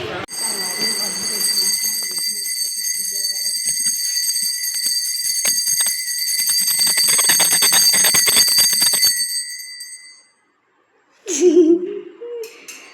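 A small prayer bell rings continuously during home worship with a bright, sustained metallic tone for several seconds, then stops; brief voices and faint sounds follow after a pause.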